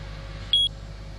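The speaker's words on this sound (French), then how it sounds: "un petit bip assez discret" A parking meter gives one short, discreet beep as it accepts a phone payment, a brief clear tone over a low steady background hum.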